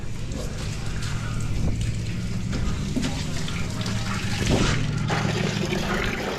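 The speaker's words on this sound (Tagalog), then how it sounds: "Lakas tubig" Strong water gushing steadily into a water tank at a construction project site, a loud continuous rushing flow with a brief surge near the end.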